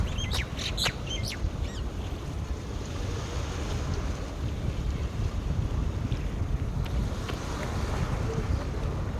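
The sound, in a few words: sound of water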